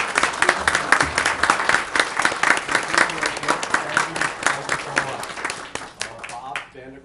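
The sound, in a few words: council meeting audience applause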